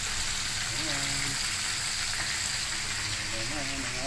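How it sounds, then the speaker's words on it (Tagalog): Food fries in hot oil with a constant loud sizzle and crackle throughout, while faint voices can be heard behind it. "Ayan ang ating prito."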